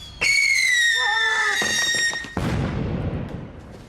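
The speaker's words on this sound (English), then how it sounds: "Looks like fireworks." Fireworks going off, a shrill whistling rocket squeal followed by a sharp burst and a crackling, fizzing tail, close and fairly loud.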